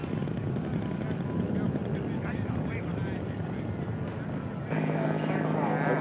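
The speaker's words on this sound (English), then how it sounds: "Jerry Sprinkle taxiing out for a takeoff" A scale model aircraft taxies out for takeoff at a scale aircraft show, its small engine a steady drone that rises in pitch and loudness near the end, with wind noise and voices mixed in.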